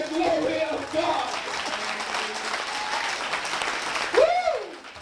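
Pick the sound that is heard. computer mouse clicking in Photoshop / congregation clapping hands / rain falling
congregation clapping hands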